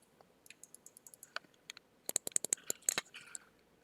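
Sharp computer keyboard and mouse clicks patter at close range, first sparse and irregular, then a quicker cluster of crisp taps, with no talking.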